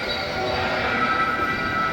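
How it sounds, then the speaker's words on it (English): A train passes close to a shuttered shopping mall in Lewisville, Texas, giving a steady, loud rumble and rail hiss that fills the full two seconds without letting up. "Oh, there's the train again."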